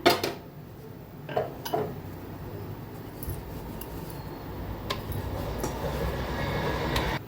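Puris being rolled out with a rolling pin, repeated wooden rolling and knocking on a board with a few sharp clacks and a steady low rumble underneath, close by and without voices.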